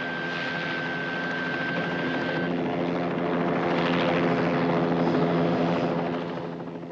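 A helicopter passes overhead, its rotor chop and engine whine a loud, steady drone that swells toward the middle and slowly fades, heard alone without voices.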